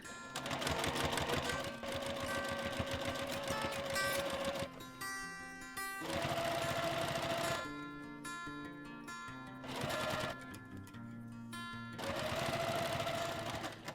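A sewing machine stitches binding onto a quilt in several runs of rapid, steady mechanical whirring and clatter, close and moderately loud, separated by short pauses.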